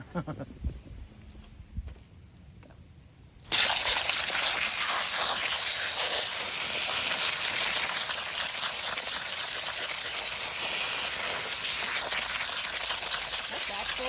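Tannin-rich wash water from cleaning black walnuts gushes onto grass, a loud, steady broadband rush that starts abruptly after a few quiet seconds and keeps pouring without a break.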